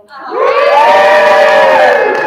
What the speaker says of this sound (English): And the people wearing pictures and supporting them just scream a little.